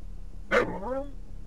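A single dog bark from the Command & Conquer Red Alert video game, one short sharp burst that trails into a brief whine, heard alone at moderate loudness over a low game background hum.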